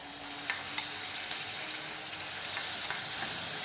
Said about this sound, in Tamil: இப்போ இதனோட பச்சை வாசம் போகணுங்க, அது வரைக்கும் நம்ம நல்லா வதக்கணுங்க.